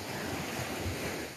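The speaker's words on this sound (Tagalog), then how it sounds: "sobrang kalmado lang ng mga waves nung dagat" Calm sea waves on a shore, a soft continuous wash of surf with gentle wind noise, steady and moderately loud, no voices.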